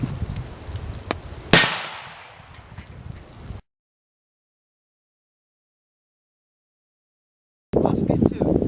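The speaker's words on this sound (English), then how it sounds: "let's get up there and shoot this sucker" A 300 Blackout rifle fires a single Barnes 130gn TTSX round into ballistic gel outdoors, one sharp loud crack fading into a ringing tail, with voices talking before and afterwards.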